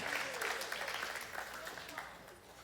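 An audience claps steadily in a broad, dense wash of applause at a high school church gathering, fairly even in level and slowly tapering, with a voice faintly over it.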